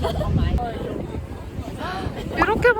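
Wind blows across a microphone outdoors in Paris, producing a low rumbling buffet throughout while people talk close by.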